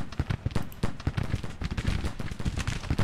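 Musket gunfire from a Civil War battle in the Grand Tactician: The Civil War strategy game, a dense, continuous crackle of many overlapping shots with heavy low booms, loud and unbroken throughout.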